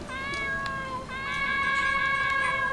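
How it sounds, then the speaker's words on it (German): Cat meowing in the German role-playing game Unterwegs in Düsterburg, two clear drawn-out meows, near and fairly loud, with no talk over them. "Oh, hallo Kätzchen."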